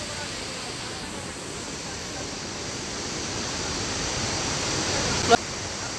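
A continuous, even rush of floodwater pours through the Mallavaram project sluice gate, the dense roar swelling slightly toward the end, with no voices on top.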